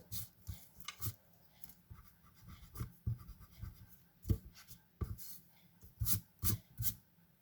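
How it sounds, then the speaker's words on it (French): Pencil marks rubbed out with an eraser on craft card, a series of short, close scratchy rubbing strokes in uneven bursts, with no voices. "je vais déjà venir gommer mes coups de crayon disgracieux"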